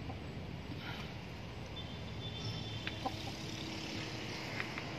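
Texas fighting rooster clucking outdoors: soft, scattered clucks at moderate distance over steady wind and rural background noise, with no one talking.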